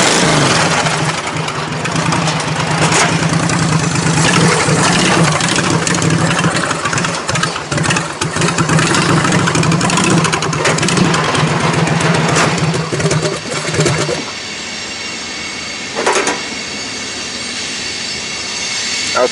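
A small engine on a lowered-pulley MTD race mower runs loud and steady close by, with a rough, buzzy drone that drops to a quieter idle near the end.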